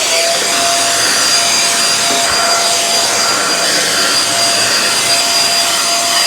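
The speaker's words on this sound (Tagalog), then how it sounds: "Gagamit ulit tayo ng isang 500 watts na vacuum cleaner." A 500-watt vacuum cleaner runs continuously at close range, a loud steady whooshing roar with a thin high whine riding on top, unbroken for the whole stretch.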